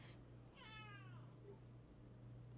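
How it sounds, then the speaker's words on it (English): A cat meowing from across the way, a single faint, distant meow rising and falling over a steady low hum. "I can hear the cat from across the way now."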